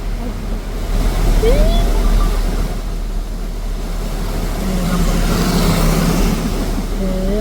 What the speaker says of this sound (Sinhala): ඕම රැළේ වතුර එනවා නේද?